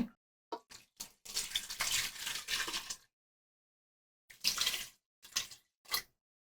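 Water is poured into a pot of mutton and oil for yakhni biryani in several separate splashing bursts, the longest lasting about two seconds, with short silences between.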